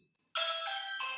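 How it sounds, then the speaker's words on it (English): A home doorbell chimes loudly and clearly, a sustained bright electronic ring with a brief change in pitch partway through, heard alone after a quiet moment. "doorbell is ringing"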